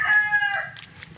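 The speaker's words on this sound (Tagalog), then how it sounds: "Yung aking mga manok lang" A single rooster crows once, a bright, fairly close call lasting under a second, from a small backyard flock of chickens, with no one speaking.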